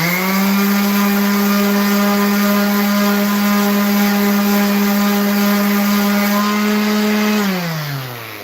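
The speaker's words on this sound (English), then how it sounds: "We're hitting it with 220 grit now" Power sander working with 220 grit sandpaper, a loud, steady motor hum holding one pitch for several seconds, then winding down in pitch as it stops.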